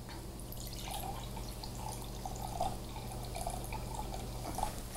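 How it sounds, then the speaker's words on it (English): Apple cider poured into a bowl of wet ingredients including melted unsalted butter, a soft continuous liquid trickle with faint drips, low and steady under a background hum. "to the wet ingredients, we're adding 3/4 of a cup of apple cider"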